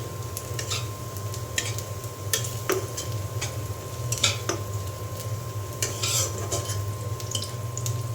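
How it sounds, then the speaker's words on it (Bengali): Onions fry in oil in a pan for shrimp bhuna, a steady low sizzle under repeated sharp clicks and scrapes of a utensil stirring against the pan. "চিংড়ি মাছ ভুনার জন্য আমি এখানে তেলে পেঁয়াজ দিয়ে দিয়েছি।"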